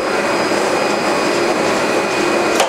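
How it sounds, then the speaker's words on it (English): A JWEI digital cutter machine runs steadily while reading mark points on E flute corrugated board, giving a constant whirring mechanical drone with a faint high whine and a brief sharper burst near the end. "now machine is reading the mark points on the printing material."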